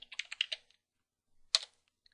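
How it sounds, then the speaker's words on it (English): Keyboard typing of a short Linux terminal command, a quick burst of close, crisp key clicks followed after a pause by a second short cluster of taps. "Type in sudo apt-get update."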